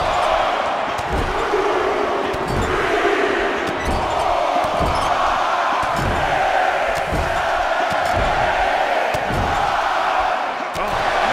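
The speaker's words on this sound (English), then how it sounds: "We got the crowd on their feet." Arena crowd noise from a WWE 2K24 wrestling match, a steady roaring wash of cheering that holds loud and unbroken throughout, with thumping impacts underneath and a commentator's voice mixed in.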